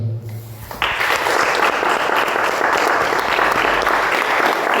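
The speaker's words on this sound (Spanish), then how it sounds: "Dale un aplauso." A church congregation breaks into applause after a sermon, the clapping surging in abruptly after a brief lead-in and then holding loud and dense to the end.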